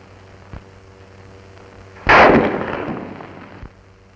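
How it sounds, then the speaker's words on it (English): A rifle bullet in flight, from a 1940s infantry weapons demonstration: one sudden loud, sharp crack that rolls off into a fading rumble over about a second and a half, with a couple of faint ticks around it and no voices. "The first thing he hears is the sound of the bullet in flight."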